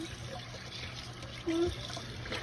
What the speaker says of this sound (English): I'm going to wash my meat off